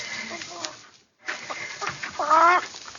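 Chicken clucking as a radio drama sound effect, a series of close, rhythmic clucks and short squawks with a brief silent gap in the middle, partly under a voice.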